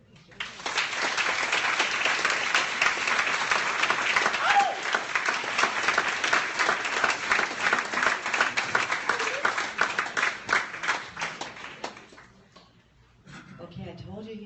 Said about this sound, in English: Let's give another big round of applause to David and Angelike.